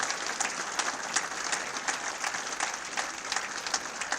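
An audience at a university sports hall of fame ceremony applauds the women's swimming and diving team, a steady wash of many hands clapping with no talk over it.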